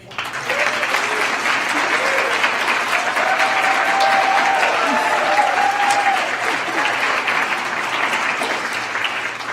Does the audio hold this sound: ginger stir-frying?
no